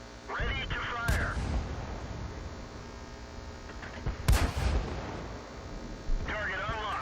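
A Stug IV tank gun in World of Tanks fires twice, each a loud sharp boom with a rumbling tail, separated by a few seconds, among game voice callouts and background engine noise.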